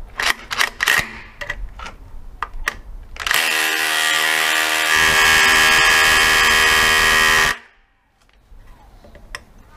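Makita SDS rotary hammer drill (DHR243) running in chisel action: a few sharp taps, then a loud, continuous buzzing hammering lasting about four seconds before cutting off into quiet.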